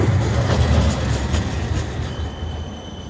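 A tram pulls into a stop in West Bromwich, England, with a broad rolling rumble and a light metallic hiss and squeal that ease off as it slows, fairly close and with no talk over it.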